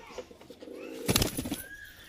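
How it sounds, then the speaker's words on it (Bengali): Kaldam high-flyer pigeons coo softly in a loft amid a burst of fluttering and rustling, with faint outdoor ambience. "আর একটা পায়রা ওই চলে গেল"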